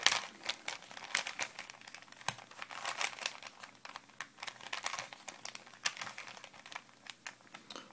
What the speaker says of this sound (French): je vais mélanger le Rubik's Cube pour vous dire quelques formules